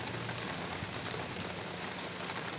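Rain falls outside on a rainy day, a constant even hiss of dense drops with no breaks, moderately loud and with no voices over it.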